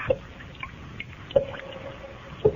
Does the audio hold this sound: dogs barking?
no